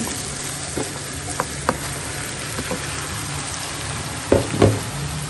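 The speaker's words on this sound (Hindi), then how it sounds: "अब हम इसके अंदर डालेंगे कद्दूकश किया हुआ पम्पकिन" Grated pumpkin (petha) hitting hot caramel in a pan for halwa, a loud steady sizzle with scattered spoon knocks and a burst of clatter near the end.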